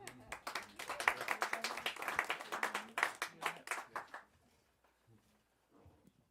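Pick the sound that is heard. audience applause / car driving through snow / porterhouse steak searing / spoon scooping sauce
audience applause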